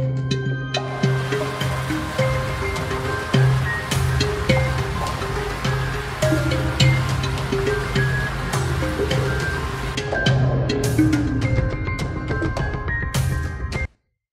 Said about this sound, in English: Accompanying that is a rushing water ambient track,